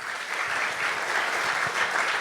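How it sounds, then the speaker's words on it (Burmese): An audience at a youth conference in Yangon breaks into sustained applause, a dense, steady wash of clapping that stays loud and even throughout with no voices on top. "လက်ခုပ်ဒီပေးကြရအောင်"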